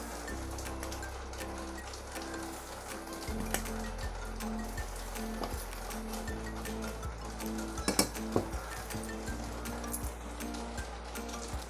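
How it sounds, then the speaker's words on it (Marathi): Rice flour is tipped into water boiling in a pot and stirred to make dough for traditional Koli-style rice bhakri. A steady bubbling hiss runs throughout, with scattered metallic clinks and scrapes from the spoon against the pot. "आता त्याच्यामध्ये पीठ टाकते."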